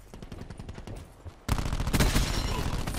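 Automatic AK-style rifle fire in Call of Duty Black Ops 4 Kill Confirmed multiplayer, rapid bursts of shots, quieter at first and then loud, dense and continuous for the second half, with game effects mixed in.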